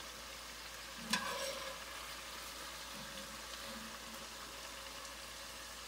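Sausage frying in a hot pan gives a steady, quiet sizzle with a sharp clatter near the start, then a continuous crackle with no voices.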